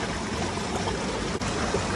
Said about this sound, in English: Pour all that gunk out.